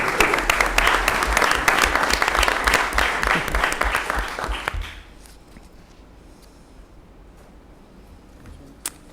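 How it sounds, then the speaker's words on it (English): Audience applause fills a commission meeting room, loud and steady for about five seconds before dying away into quiet room noise with a single faint tap near the end. "Another round of applause"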